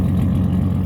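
A turbocharged 2001 Nissan Xterra dune buggy engine with a 2.5-inch straight pipe exhaust rumbles steadily at idle in a short, close, low-pitched burble with no voices.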